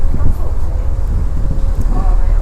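Gusty wind buffets the microphone with a low rumbling roar, steady and loud throughout.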